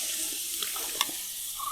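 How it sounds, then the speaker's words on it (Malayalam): Blended tomato juice poured into a pan of chicken curry masala gives a faint, soft liquid splash and trickle with a few small plops. "ജ്യൂസ് ഇതിലിനി ഒഴിക്കാം."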